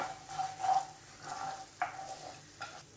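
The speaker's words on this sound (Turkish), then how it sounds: "Şimdi iyicene karıştırıyorum böyle." A ginger cough-remedy mixture being stirred in a container, with a few soft, brief scraping and swishing strokes, close and fairly quiet.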